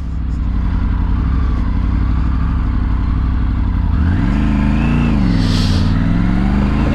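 A Triumph Tiger 900 GT motorcycle is ridden with a loud, close engine drone. Partway through, the revs rise and swell, then dip and climb again, over steady wind and road noise.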